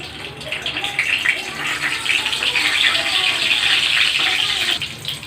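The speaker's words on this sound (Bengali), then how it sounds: "তেজপাতাতে আমার অল্প জল ছিল, তাই এইভাবে আওয়াজ হচ্ছে, ছিটকাচ্ছে।" Wet bay leaves splutter in hot oil for a chicken korma, making a loud, dense, continuous hiss and crackle close by.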